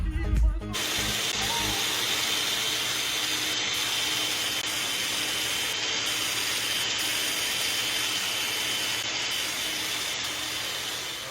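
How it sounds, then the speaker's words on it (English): A crack chaser blade grinds into cracks in a concrete garage floor, making a continuous harsh, gritty whirring that stays close and steady throughout. "You're gonna take your crack chaser blade here, get in there and kind of open up the cracks a little bit more"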